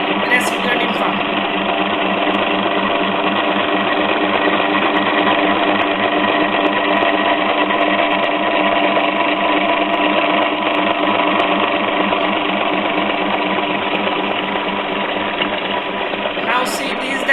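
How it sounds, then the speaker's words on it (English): A motor drives a reciprocating cam mechanism, giving a steady, loud, rhythmic mechanical whirring and clatter that runs without a break, close to the listener, with speech over it. "This is the motor and this is the cam. This complete reciprocating form."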